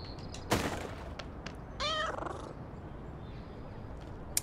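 A single short meow from the cat in the video game Little Kitty Big City rings out between a soft thump and faint background game sounds.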